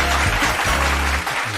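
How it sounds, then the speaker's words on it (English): Dense, continuous applause from a movie-quiz audience fills the whole stretch as a loud wash of clapping, with a low steady hum underneath. "and a heavy applause for me."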